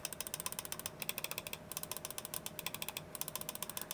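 Rapid, evenly spaced clicks from the switches of an ATK A9 Mini+ gaming mouse, crisp and close, repeating in a steady run with two brief pauses and no talking.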